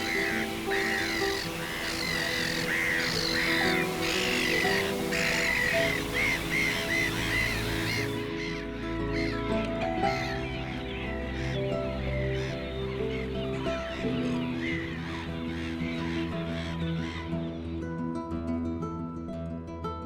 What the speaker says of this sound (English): Where the seagulls eagerly take up position.